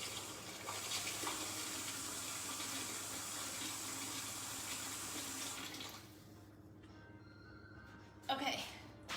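Water running from a kitchen tap into a soup pot for chicken soup, a steady broadband hiss that fills most of the clip before cutting off, followed by quieter kitchen sounds and a brief clatter near the end.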